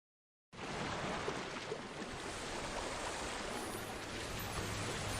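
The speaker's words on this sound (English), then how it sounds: "The waterfall crashes down onto the rocks" A waterfall crashes onto rocks in a mermaid visual novel video game, a steady, loud, broadband roar of falling water that starts abruptly and continues unbroken with no talk.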